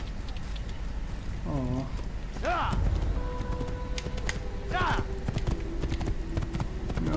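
A white horse's hooves clip-clop at a steady gallop in the video game Assassin's Creed, rhythmic thuds running throughout while someone talks over them.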